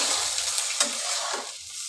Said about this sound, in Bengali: সামান্য একটুখানি জল দিয়ে আমি কষাচ্ছি নাহলে কড়াইতে একটু লেগে ধরছে